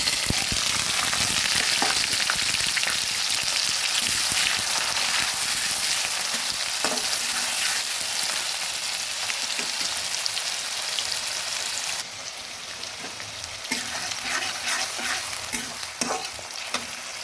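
Chopped onion and garlic fry loudly in hot oil for papaya chicken curry, a steady dense crackling sizzle with occasional stirring clicks, easing slightly partway through and continuing alone without voices.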